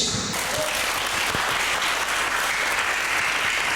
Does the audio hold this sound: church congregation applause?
yes